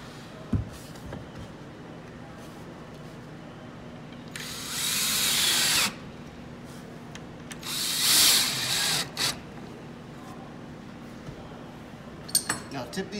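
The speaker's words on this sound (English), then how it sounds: "And screw down." Power drill driving screws into the frame of a convertible bench, two short whirring bursts separated by a quiet stretch, with faint clinks of parts near the end.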